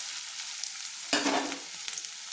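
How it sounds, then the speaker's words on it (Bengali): Onions and garlic fry in a hot pan for a fish steaming recipe, a steady close sizzle with a sharper burst of crackling and stirring midway, no voices. "আবারও লাল লাল করে একটু ভেজে নিচ্ছি।"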